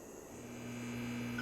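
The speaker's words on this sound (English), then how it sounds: "I'll hear that humming sound kick in." Ambient humming effect for a Playdate panels comic: a steady electrical-sounding drone with a low tonal line, continuous and gently rising in level, with no voices.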